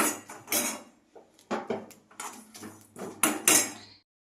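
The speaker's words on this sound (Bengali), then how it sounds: "আমি এবারে কড়াই চাপিয়ে দিয়েছি" A metal wok is clattered onto a stove for dry-roasting spices: a run of close, loud metallic knocks and scrapes in uneven bursts.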